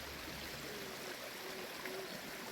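A trail-side stream of water flows steadily in the Walls of Jericho area of Alabama, a soft, continuous broadband rush that stays fairly faint and even throughout, with no talk over it.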